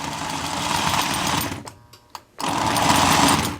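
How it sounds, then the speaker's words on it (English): A Lionel toy train engine runs with a steady mechanical whir and buzz, briefly dropping out for about a second before the motor sound resumes at full strength; no talking. "See? This engine runs perfect."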